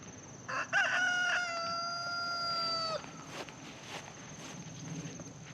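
A rooster crows once, loud and drawn-out, over a steady background hum, followed by faint scattered clucks and shuffling.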